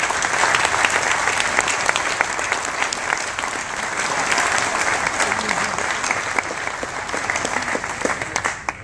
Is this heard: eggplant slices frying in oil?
no